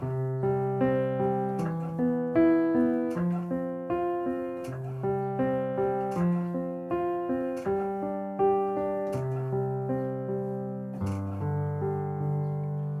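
A piano plays a repeating four-note pattern, clear sustained notes struck in an even rhythm and stepping through changing chords, close and alone with no talk.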